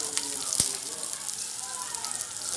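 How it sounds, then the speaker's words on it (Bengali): Green chillies and mustard seeds frying in refined oil, a close, steady crackling sizzle with a brief sharp pop early on. "কাঁচা লঙ্কা ফোড়ন দিয়ে দেবো"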